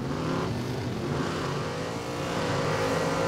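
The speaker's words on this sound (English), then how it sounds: "a loud car with a muffler that is not doing its job, backfiring a couple of times as it screeches around the corner" A loud car with a faulty muffler roars around a corner. Its engine noise is a steady, harsh, close rumble that fills the moment with no pauses.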